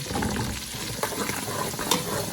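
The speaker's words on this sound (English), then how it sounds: "I'm just going to let that fry" Onions fry in a pan with a steady, dense crackling sizzle, close and continuous, with a couple of brief sharper pops.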